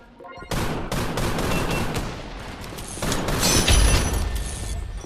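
Gunfire from the mobile video game Gun Raid, including a sniper rifle, comes as loud repeated shots and bursts crowding the whole clip, with a heavy blast near the end.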